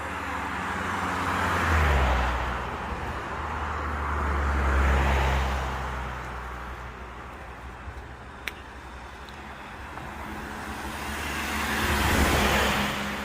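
A city bus on route 645 rolls past on a quiet neighbourhood road in Jeju, its engine rumble swelling and fading in repeated passes with other passing traffic, with no talk over it.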